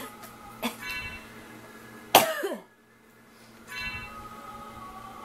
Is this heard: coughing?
yes